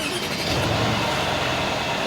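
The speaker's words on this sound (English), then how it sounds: "Let's start the car up real quick. I want to let you see how it sounds." A 2013 Mercedes-Benz S550 engine started by push button catches and settles at once into a loud, smooth rumble that stays close and steady for a couple of seconds, with no talk.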